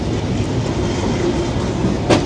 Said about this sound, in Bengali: ঈশ্বরদীতে 20 মিনিট দাঁড়ানোর পরে ট্রেনটি আবার ছাড়লো।